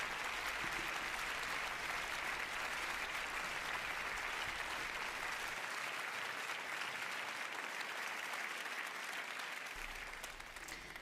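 Audience applause at an evening evangelistic gathering, a steady, sustained clapping from a large crowd that continues throughout with no talk over it, easing slightly at the end.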